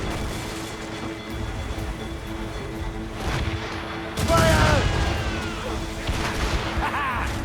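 Naval battle in Assassin's Creed Rogue: gunboat cannons fire, with a loud booming volley midway, further blasts, churning sea and crew shouting orders over the din.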